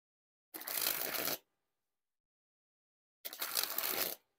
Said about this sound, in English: first, we're going to spring the deck.